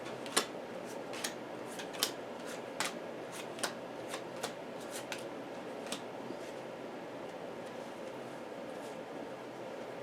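Cards being shuffled for the Arkham Horror card game, a series of quick riffling bursts repeating irregularly at close range, each one short and crisp.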